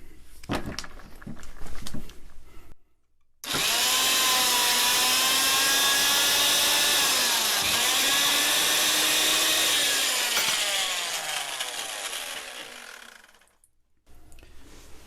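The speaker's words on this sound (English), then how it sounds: "Tapping a 1/2 inch 13 hole in 1/4 inch aluminum." A vintage Fein tapper drives a 1/2-13 tap through a hole in 1/4 inch aluminum, a loud steady motor whine with shifting pitch that runs about ten seconds alone, cutting off sharply between quieter handling noises.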